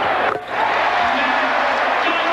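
A basketball arena crowd at an NBA game between the Sacramento Kings and Philadelphia 76ers roars steadily as a dense, loud wash of cheering that dips briefly near the start and then holds throughout, with a voice faintly mixed in.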